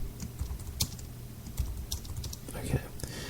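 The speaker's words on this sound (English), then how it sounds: "Hold on, I gotta type something on Twitter real quick." Soft tapping on a computer keyboard while someone posts to Twitter, a quiet, irregular run of keystrokes in uneven bursts with faint breathing or murmuring underneath.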